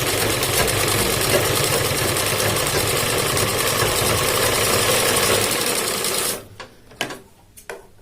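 A sewing machine stitching the front placket of a shirt at one inch, running steadily with a loud, fast mechanical whir for about six seconds, then stopping with a few brief clicks.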